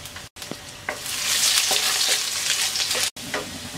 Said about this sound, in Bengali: হাফ চা চামচ আস্ত জিরা, রসুনটা কিন্তু হালকা ভেজে নেব।